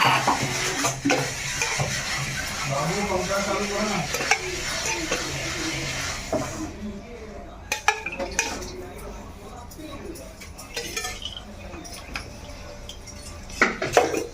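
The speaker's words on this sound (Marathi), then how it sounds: "कुकर गरम झालं की फोडणी देत आहेत" Spices crackle and sizzle in hot oil in a heated pressure cooker, with stirring scrapes and clinks; a person talks over the cooking early on.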